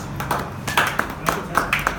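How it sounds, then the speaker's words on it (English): A small group at a karting results ceremony in Northampton claps for a driver. The applause is sparse, with distinct individual claps scattered across two seconds over a low background rumble. "Round of applause, Terry."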